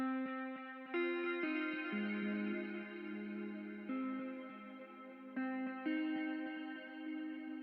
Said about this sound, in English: It's got a really nice, warm, washed out sound. It's got a load of echo